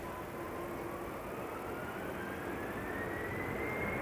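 An airliner departing Amsterdam Schiphol Airport roars as a steady, loud jet rumble, with a faint rising whine running through the constant broadband noise.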